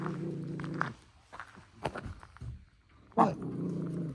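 A dog growls low and steady, then gives a few rough, throaty grumbles and a sharper outburst near the end, heard close during a Bigfoot expedition in the Kentucky woods, with faint shuffling between.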